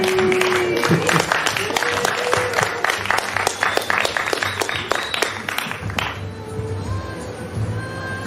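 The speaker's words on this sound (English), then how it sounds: "So let's give him a big hand." A crowd at a gathering applauds a mayoral candidate with loud, full clapping that fades after a few seconds into a quieter room tone with faint voices.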